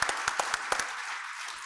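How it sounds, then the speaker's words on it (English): Audience at an Iraq energy forum applauds a panel, a handful of scattered, fairly close claps in the first moments that quickly thin out into room noise. "Nice round of applause to our panel."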